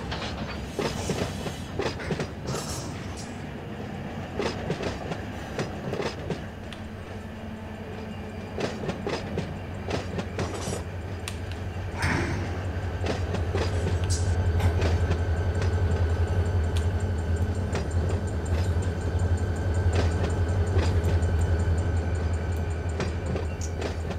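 A local freight train in the Run8 train simulator rolls slowly in on the tracks, a steady low rumble with clickety-clack and metallic creaks that grows louder partway through.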